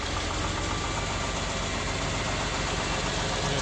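A John Deere 4020 tractor engine runs steadily close by, a loud, continuous low rumble with a knocking idle throb and no talking.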